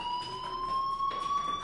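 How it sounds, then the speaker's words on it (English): A fire alarm sounds inside a video game as a steady, continuous electronic tone that holds at a constant loudness throughout. "Hey, do you hear that fire alarm? That means you should be outside."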